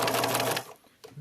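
A Swiss-made 1950s Bernina 534 sewing machine runs a straight stitch, a loud, close mechanical whir for about half a second before cutting off, followed by a faint click.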